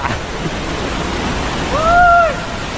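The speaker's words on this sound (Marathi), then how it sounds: "पाणी येते रे पाणी येते." Milkybar waterfall in the Sahyadri hills roars as a steady, fairly loud rush of water, with a brief tonal whistle near the end.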